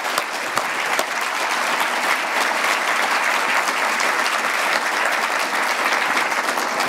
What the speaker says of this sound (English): Let's give our group a round of applause one more time